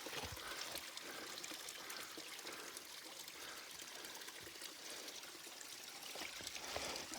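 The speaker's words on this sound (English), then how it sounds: "this really pretty creek and water cascade where we just filled up here on the face of this rock" A mountain creek cascades over a rock face along a hiking trail, a continuous, close, gentle rush and trickle of water that stays steady and fairly quiet throughout, with no voices.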